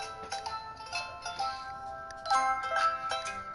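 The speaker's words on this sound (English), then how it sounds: "He's got his own ringtone for my phone." A phone rings with a melodic ringtone, a string of bright chiming tones rising and falling in quick notes, clear and fairly close over a faint background.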